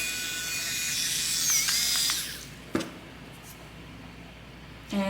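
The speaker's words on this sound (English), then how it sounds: "I'm just going to quickly show you how I use my drill to make a hole" A small drill whirs for about two seconds while boring a hole in clay, then stops, followed by a sharp tap and a brief scrape near the end.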